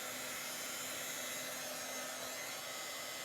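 A hair dryer runs steadily at close range, blowing a continuous broadband whoosh with a faint motor hum as it dries chalk paste on a craft surface; no talking.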